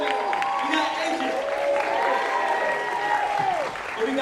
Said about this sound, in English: clap it up for your professors, y'all